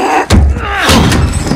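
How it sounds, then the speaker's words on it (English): A door is breached with a single loud, close slam and thud in the Call of Duty: Modern Warfare embassy siege, followed by rumbling debris and background commotion. "Door down, don't need help!"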